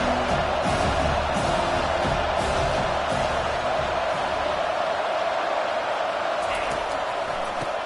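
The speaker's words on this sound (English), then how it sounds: "This crowd, full throat, splitting the eardrums and letting them know it's going to be a long day." Stadium crowd in NCAA 25 roaring continuously at a college football game between Notre Dame and Syracuse, a loud, dense wall of cheering that runs the whole time without a break.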